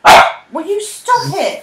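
A pet dog barks once, loud and close, begging for treats, then a voice speaks over the end.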